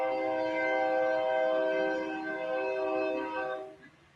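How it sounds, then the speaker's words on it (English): A nearby train on the track sounds a long, steady, loud multi-tone horn blast lasting several seconds, then fades out. "That's a train making the noise because they're fixing to go"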